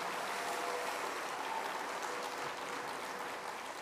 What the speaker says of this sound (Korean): 전주교회 합창단에게 다시 한번 큰 박수